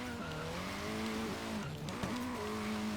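A Ford Focus RS slides through a drift in Forza Horizon 3, its engine note rising and falling with throttle changes while the tires squeal steadily underneath.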